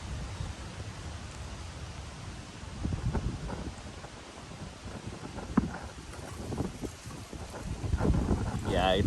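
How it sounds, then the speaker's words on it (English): Wind blowing outdoors on a hot day, buffeting a handheld microphone in uneven gusts that swell louder toward the end, with soft rumbling thumps. "it just got windy here"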